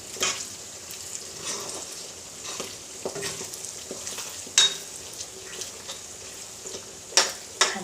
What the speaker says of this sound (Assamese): এয়া উতলি আছে।